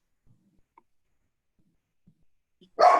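Dogs barking in a burst near the end, loud and close after near silence, interrupting a virtual roundtable call at home.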